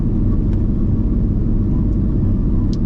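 A 2001 Mustang Cobra engine revving hard for a short burnout, a loud, close, steady roar with deep rumble throughout and no talk.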